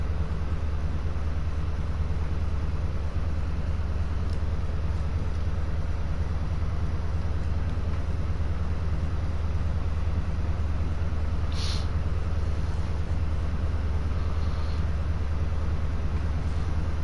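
HST diesel train in Train Sim World 2 on a Reading to London Paddington run, a steady, loud low engine drone with broadband rumble held throughout, building slowly as it pulls away, with no talk.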